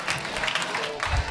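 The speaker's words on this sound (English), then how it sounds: "Another round of applause for all these great performers tonight." Audience applause at a comedy show for funny lawyers, a steady wash of clapping from the crowd held at moderate level for a little over a second, without clear speech.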